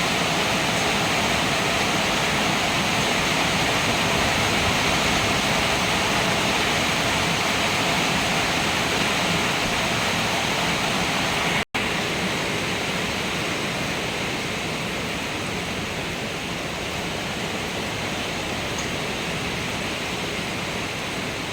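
Steady rain pours down outdoors while water flows and runs off nearby, making a constant loud broadband hiss that barely changes over twenty seconds. A brief cut breaks it near the middle, and no one speaks.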